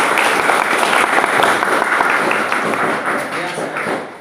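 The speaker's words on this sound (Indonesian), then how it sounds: "Sekali lagi kita tepuk tangan untuk" A church congregation at an Indonesian National Bible Month opening applauds the aspirants and sisters who acted out a short Gospel drama. Loud, dense clapping fills the space and fades gradually toward the end.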